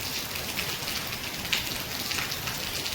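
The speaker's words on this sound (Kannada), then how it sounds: "ನೋಡಿ ಅಂದರೆ ಇವಾಗ ಪಿರಿ ಪಿರಿ ಬರ್ತಾ ಉಂಟು ಮಳೆ" Steady drizzling rain patters continuously on surfaces nearby, a soft even hiss with scattered brighter drops and no voices.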